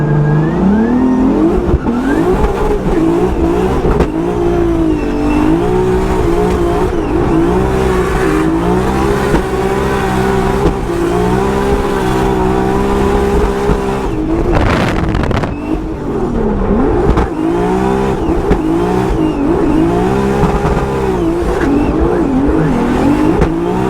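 A 2JZ-swapped BMW E36 drift car at a Formula Drift event at Irwindale revs loud and close, its engine note rising and falling through throttle changes, with a brief surge near the middle.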